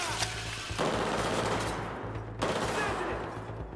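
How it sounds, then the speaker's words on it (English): Rapid automatic gunfire from the video game Battlefield 4, loud dense bursts that rattle on continuously, pausing and then surging again, with no talk over it. "Shooting now!"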